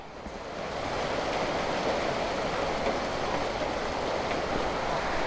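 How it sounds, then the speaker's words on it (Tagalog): Heavy rain pours steadily during a motorcycle taxi ride, a dense, even wash of noise that swells in after a brief quieter start and holds loud and close with no talking. "Bigla pang lumakas yung ulan."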